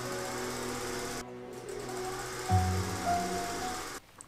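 A sewing machine hemming the bottom of a pirate shirt, running in a steady close mechanical hum with rapid needle rhythm, stopping briefly, then starting again and running until it cuts off near the end.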